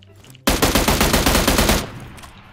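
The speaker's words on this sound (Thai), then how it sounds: "ไล่ยิงกันดีกว่า" Rapid automatic gunfire in the video game PUBG Lite: a loud, sustained burst of closely spaced shots starts abruptly, runs for over a second, then cuts off into a fading tail.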